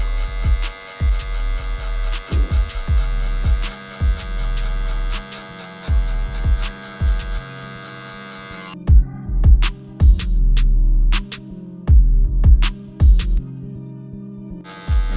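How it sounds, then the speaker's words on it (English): A Wahl barber clipper buzzing steadily through hair with the guard fully open, the motor hum rising and dropping in short repeated passes around the head, close and fairly loud with no talking. "Now I'm going with my clipper all the way open, sending in my next guideline all the way around the head."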